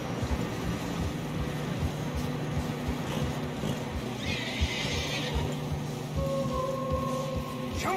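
A horse whinnies once over a steady clopping of hooves through fresh snow and a low, windy background, in Red Dead Redemption 2.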